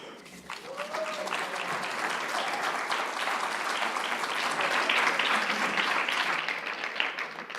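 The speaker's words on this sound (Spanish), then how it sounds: "por aplaudir incluso antes de haber yo dicho nada" A lecture audience breaks into dense, sustained clapping that swells and holds steadily loud for several seconds, with a brief voice near the start.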